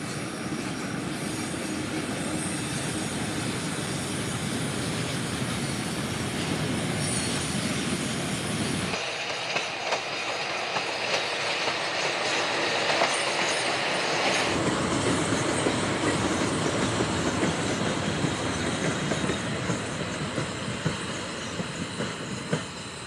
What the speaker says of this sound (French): À Nîmes, Avignon, Miramas, on les voit toujours en tête de trains variés, et même de trains de pétrole